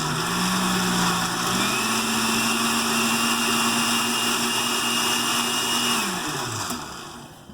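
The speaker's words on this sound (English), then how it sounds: "I'm going to puree it a little bit more." A blender purees thick corn chowder thickened with cornstarch, running as a steady, loud motor whine that shifts pitch once as the load changes, then winds down near the end.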